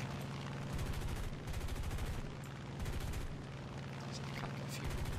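Rapid aircraft machine-gun fire in War Thunder, dense continuous bursts with short pauses between them over a steady engine drone, loud and close.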